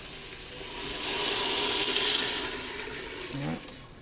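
Stock being poured into a pot of softened onions, carrots and celery for chicken noodle soup over medium-high heat: a steady rushing splash that swells for a couple of seconds and then tapers off.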